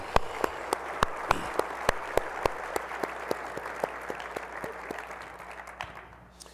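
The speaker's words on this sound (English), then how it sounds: "let's have another round of applause for our national championship coaching staffs" Audience at a track and field and cross country coaches' convention opening session applauds the coaching staffs: a dense, even patter of clapping with sharp individual claps standing out, gradually thinning and fading toward the end.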